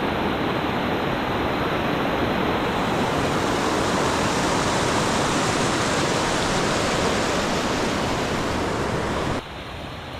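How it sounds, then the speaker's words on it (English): A small runoff waterfall beside a mountain trail in the Great Smoky Mountains, a dense steady rush of falling water close by, unbroken until it drops slightly near the end. "Here we have a little runoff waterfall"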